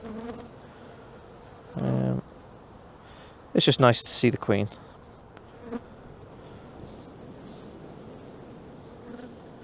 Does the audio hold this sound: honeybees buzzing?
yes